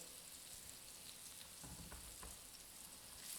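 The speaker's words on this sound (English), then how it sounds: "Did you hear that nice sizzle?" Pork chops sizzle and crackle in a hot pan, a constant hiss with a few louder pops, faint and steady.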